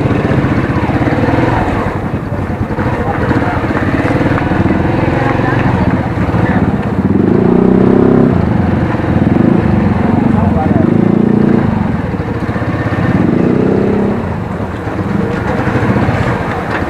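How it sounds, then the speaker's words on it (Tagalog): A Rusi TC125 motorcycle engine runs steadily and loudly at close range for the whole stretch as the bike is moved into a shop, its low droning rumble rising and falling slightly, with voices talking over it. "pasok na natin yung motor doon."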